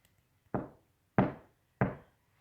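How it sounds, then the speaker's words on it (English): Three evenly spaced knocks on a door, each a sharp, fairly close thud with a quick decay, set against a quiet room. "you heard a knock on the door once again."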